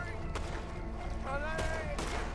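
Gunfire from the video game Red Dead Redemption 2: a few sharp broadband cracks spaced through a busy stretch, with voices talking over a steady game soundscape.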